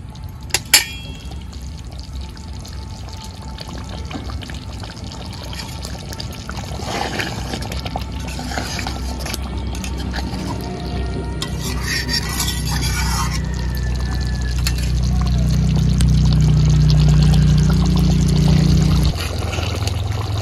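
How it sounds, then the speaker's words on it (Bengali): Ghee is spooned into a vegetarian dum of small new potatoes, a soft pouring and trickling sound that builds into a steadier, fuller sizzle toward the end, close by and alone without talk. "আর 1 চামচ ঘি দিয়ে দিচ্ছি।"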